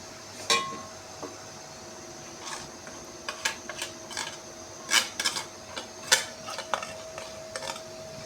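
Korma roasting in a pan, with irregular metallic clinks and scrapes of a spoon against the pan over a faint low hiss, no voices.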